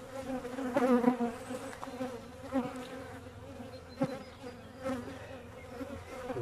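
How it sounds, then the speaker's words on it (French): Honey bees laden with yellow rapeseed pollen buzz around a strong hive, a steady close drone with louder passes as individual bees fly near. "Deux abeilles qui sont jaunes et qui sont pleines de colza en fait."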